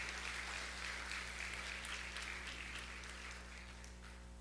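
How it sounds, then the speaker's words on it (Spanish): Congregation applauding God during a Spanish-language church service, a steady wash of clapping that stays fairly even and moderately loud throughout, with no speech over it. "Denle ese aplauso fuerte a Dios."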